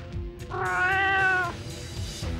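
A cat meows once in a long, drawn-out, rising and falling cry in a grimy, isolated alley, fairly close and clear, with low rumbling background noise before and after.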